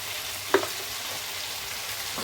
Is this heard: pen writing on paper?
no